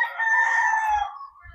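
A large one-year-old SBR rooster crows once, close and loud, a long drawn-out call that tails off, followed by a couple of low thumps.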